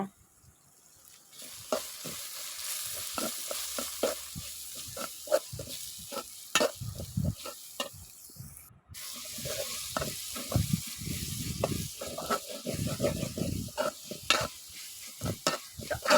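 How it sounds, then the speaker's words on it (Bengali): Turmeric, chili powder and salt sauté in a hot pan with a steady sizzle, broken by repeated scraping strokes of a spoon stirring the spices, close and continuous. "মরিচের গুঁড়া লবণ দিয়ে আমি ভালোভাবে এখন কষিয়ে নেব"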